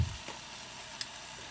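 Chicken sears in a hot pan for a keto dinner, a steady, soft sizzle with one small pop near the middle and a faint clink at the start.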